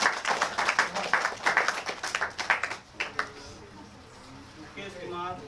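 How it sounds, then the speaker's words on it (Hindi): Children at a free school in Jiyapur, Azamgarh, clap their hands in a steady burst of rhythmic applause, which fades out as voices and room chatter take over. "वेरी गुड, ताली बजाओ।"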